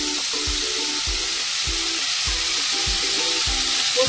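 Whole spices frying in hot oil with a pinch of asafoetida, a continuous hiss with a regular series of low thumps roughly every half second, with a faint tonal hum in the background.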